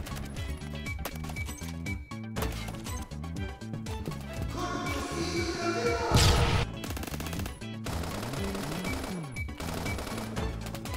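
Shotgun blasts in the online shooter Phantom Forces, a run of loud sharp booms and crashes mixed with other in-game gunfire, impacts and busy game music, with no talk.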